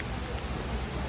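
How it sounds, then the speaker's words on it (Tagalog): Heavy rain pours down in Iloilo City outside a hotel, a dense, steady hiss with no break across the short stretch. "lakas ng ulan dito"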